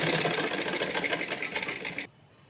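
A sewing machine runs straight stitching that joins salwar panels, a steady, close whir for about two seconds that then stops abruptly.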